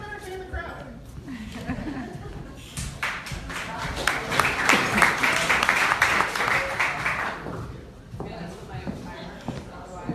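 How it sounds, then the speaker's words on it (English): An audience at Tampa Bay Startup Week breaks into a dense round of applause that swells and holds for several seconds, with crowd chatter running underneath before and after. "Round of applause."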